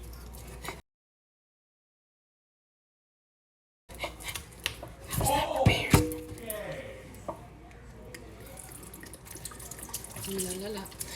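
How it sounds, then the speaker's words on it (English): Cold tap water running over raw meat in a kitchen sink, a steady splashing stream with brief clinks and drips, fairly close. "we're gonna wash our meat now. A little bit of cold water, not too much, just a little splash"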